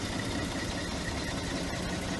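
An original 1951 truck engine idles smoothly, a steady, even low rumble heard up close with no other sounds.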